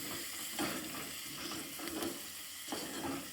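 Washed coriander is stirred into tomato chutney in a pan over a steady, soft sizzle, with a few brief scraping strokes of the spoon, close and quiet and without speech.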